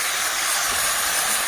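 Tomatoes hit fried onions in a hot pan while cooking a village-style egg curry, a loud steady sizzling hiss that stays even and close throughout, with no talking.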